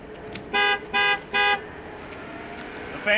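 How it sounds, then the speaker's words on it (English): The horn of a 2017 Ford Police Interceptor Utility K-9, set off by its heat alarm, sounds three short, evenly spaced honks close by, with quiet background between them and no one talking. "the window will roll down and the horn will honk"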